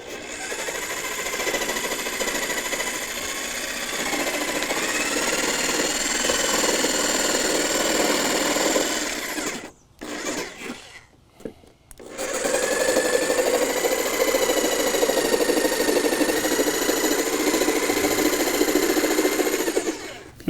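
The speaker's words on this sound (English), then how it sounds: "I was due for a new jigsaw" A brand-new jigsaw, fresh from the factory with its blade already tilted, saws through wood during a shed build in a loud continuous buzzing drone, cut off by a brief pause before the saw starts up again and runs steadily.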